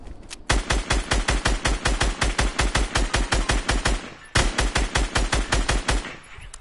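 Fast, loud automatic gunfire in a Fortnite-style video game, fired in two long bursts of evenly spaced shots with a short pause between them and no talking.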